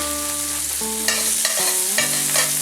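Garlic hits a pan of shrimp and is stirred around, giving a steady close sizzle with a few brief scraping bursts over a background hum, and no voices.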